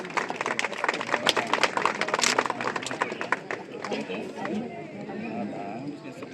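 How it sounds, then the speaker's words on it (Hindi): Loud crowd applause at a road asphalting inauguration and welcome ceremony for an MLA, dense clapping filling the first few seconds before thinning into a steadier murmur of crowd noise. "जोरदार तालियां।"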